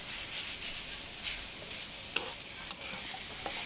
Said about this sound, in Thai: ผัดให้หมู3ชั้นกับพริกแกงของเราเข้ากันดีเลยนะคะ